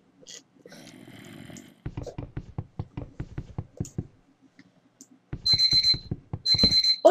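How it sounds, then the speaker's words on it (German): A Minecraft timer alarm beeps in rapid repeated bursts, starting quietly and returning loudly near the end, with rhythmic low rumbling sounds between the beeps. "Und der Timer läutet,"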